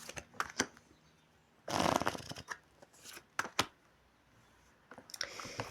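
Tarot cards shuffling and riffling in short bursts, with a louder flurry in the middle and scattered crisp flicks and snaps, close to the microphone.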